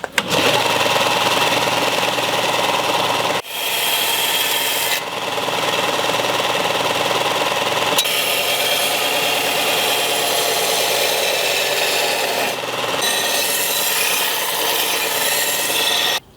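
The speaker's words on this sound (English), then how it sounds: "gonna go ahead and work the edge with the belt grinder, get it all shaped up the way we want" A belt grinder shapes the edge of a Bulgarian bearded axe blade, producing a loud, continuous abrasive whir broken into several long passes with brief pauses between them.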